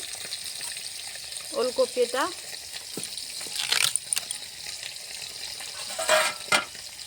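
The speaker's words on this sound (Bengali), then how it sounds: "এখানে মাছটা ভাজা হচ্ছে" Fish frying in a pan, a soft continuous sizzle with occasional clinks and scrapes, while a voice speaks briefly over it.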